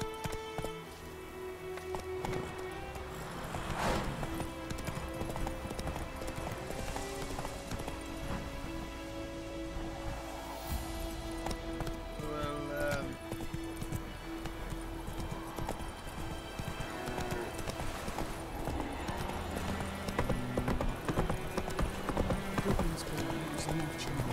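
Horse hooves clip-clop steadily at a trot through the whole stretch, with game music and occasional voices layered underneath, in The Witcher 3: Wild Hunt on PC.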